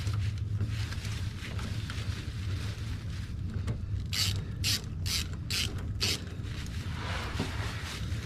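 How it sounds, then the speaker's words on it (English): A 10mm ratchet wrench loosens a bolt on a car's transmission area, giving a run of quick, close, crisp clicks in short bursts over a steady background hum. "Take your 10mm, loosen this thing all the way off where you can get it off of there."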